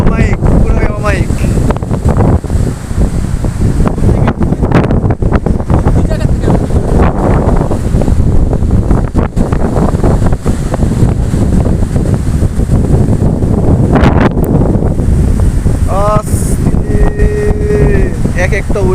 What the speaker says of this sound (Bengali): এক একটা ওয়েভের পাওয়ার দেখছো?